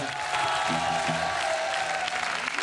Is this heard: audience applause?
yes